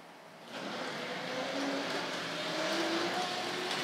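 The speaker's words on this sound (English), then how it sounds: "Let's get the diesel rail car underway." A Tri-ang RS.7 diesel railcar model train gets underway, a soft steady whirring and rolling hum that starts up quickly and continues evenly, faint and close.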